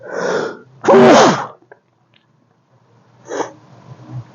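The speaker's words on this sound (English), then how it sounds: "I'm about to sneeze." A single loud sneeze bursts out close to the mic, preceded by a sharp inhale and followed by quiet breathing and a small sniff.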